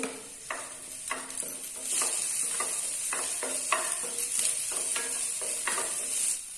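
Ginger and garlic fry in a pan with a constant soft sizzle, broken by a regular rhythm of spoon or spatula scrapes about every half second.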